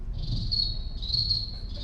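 At a comic convention panel, a voice mimics a cricket with two sustained high, trilling chirps, each about a second long, over a low background rumble.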